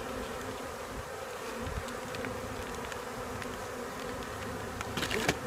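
Honey bees buzz steadily around a nucleus colony hive, a dense continuous hum close by with a few louder individual passes near the end.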